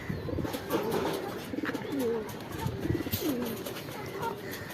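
Pigeons on a rooftop coo in soft, repeated throaty calls, close by, with a few overlapping birds and light background noise.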